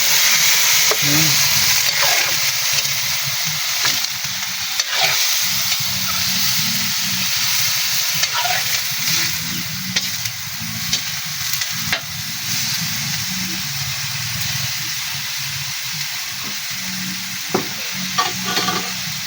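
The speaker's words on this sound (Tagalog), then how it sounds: "Ayan, halo-haloin lang natin." Chicken adobo fries in a pan with a loud, continuous sizzle and hiss while a utensil stirs and scrapes through it, close and steady throughout.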